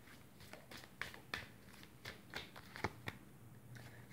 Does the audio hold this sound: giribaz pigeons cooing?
no